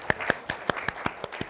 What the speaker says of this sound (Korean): 일단 9개 맞으셨으니까 박수 한번 보내드립니다